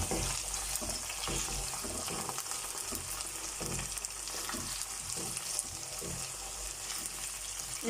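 Potatoes fry in ghee in a pan for an eggplant and potato dish, giving a steady close sizzle with faint stirring scrapes and occasional watery clinks, with no voices.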